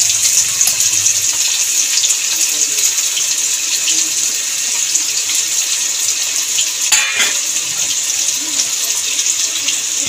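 Finely chopped onions sizzling in hot white oil in a wok, a continuous bright hiss and crackle that stays steady and close, with a brief louder spatter near the end.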